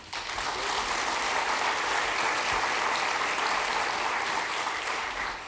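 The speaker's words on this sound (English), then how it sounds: "Let's give a big round of applause for Sherry Sager." A big round of applause from the audience at the SAMCEDA annual meeting, dense and even clapping from a full room, sustained at a steady level throughout.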